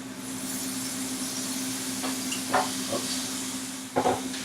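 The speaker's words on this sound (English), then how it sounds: "Got me a nice steak going over here on an indoor grill." Steak on an indoor grill, giving a quiet, steady sizzle under a low electrical hum, with a few soft clinks and scrapes of utensils near the end.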